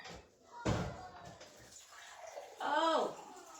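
Water runs into a cup at home: a sharp knock, then a steady pour whose tone climbs as the cup fills, fairly close and moderately loud, with no voices.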